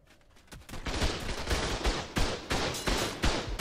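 Gunfire in the video game ARK Ascended: a rapid burst of sharp shots, loud and close, firing in an uneven rhythm for several seconds after a brief quiet start.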